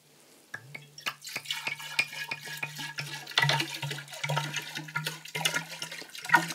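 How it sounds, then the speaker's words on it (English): Red wine poured from a bottle into a large decanter, a steady liquid gurgle with rhythmic glugs and splashing that continues throughout, close and moderately loud with no talking. "so it's in the decanter"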